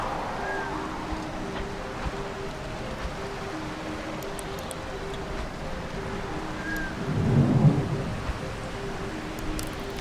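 Steady rain hisses through a rainy night scene in the video game Retropolis 2, with a low rumble of thunder swelling briefly near the end under a quiet continuous wash.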